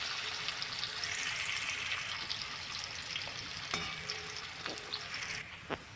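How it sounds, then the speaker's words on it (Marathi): Finely chopped onion frying in hot oil for an eggplant curry, a steady close sizzle with occasional stirring clinks against the pan. "आता हे कांदा इथे फ्राय करून घ्यायचे."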